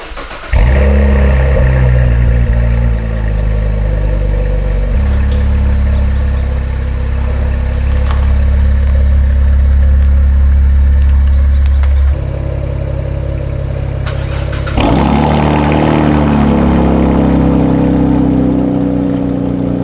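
Cadillac ATS-V engine running loud and close while driving, a steady deep drone holding through the clip with a shift in pitch around the middle and a renewed pull near the end.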